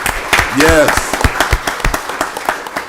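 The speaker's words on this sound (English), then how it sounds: "Y'all give Ms. Marna Lewis a round of applause" Applause at a county board of commissioners meeting, scattered claps close by mixed with a voice speaking and an exclamation over them, the clapping uneven and thinning out.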